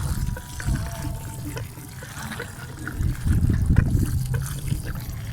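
Water pours and trickles onto cabbage plants in a garden, a soft uneven splashing that swells and fades, with a faint voice briefly in the background.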